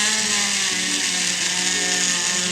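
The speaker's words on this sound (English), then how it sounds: "my electric drill" An electric drill bores into sheet metal at a jewelry bench while a nameplate necklace is made, giving a steady, loud, high-pitched motor whine with small shifts in pitch throughout, and no voices.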